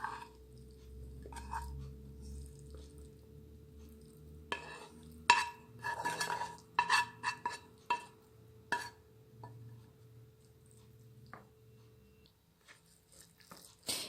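Potato and chicken croquette filling is mixed with a fork in a bowl, heard as quiet scraping and clinking against the dish with scattered sharper taps, fairly close and soft overall.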